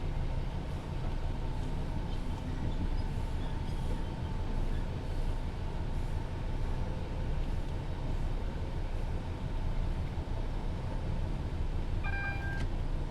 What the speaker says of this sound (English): I'm hoping in this scenario there should be quite a few more down trains going by